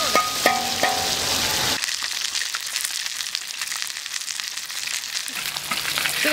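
Carp fries in a pan with a strong, continuous sizzle and crackle, close and loud, with a few metallic clatters early on before the frying settles into steady hissing.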